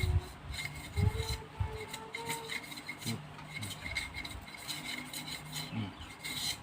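Bamboo strips are scraped by hand to shape them round for a woven fish trap, giving close, repeated rasping strokes that rise and fall in an uneven rhythm.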